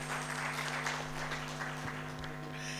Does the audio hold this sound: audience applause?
yes